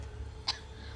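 A single short cough or throat-clear bursts out briefly in the middle, faint against a low background hum.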